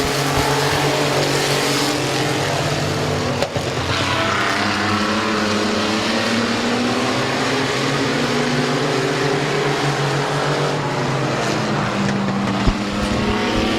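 Race cars roar around the Midvale Speedway track, a continuous loud engine drone with rising and falling pitch as several cars pass, steady and sustained throughout.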